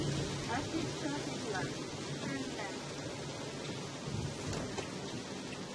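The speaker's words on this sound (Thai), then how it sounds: "แต่ฝนมันตกค่ะ" Steady, dense rainfall hisses continuously throughout at Jigokudani in Noboribetsu, Hokkaido, with occasional louder spatters, and a voice talks faintly underneath.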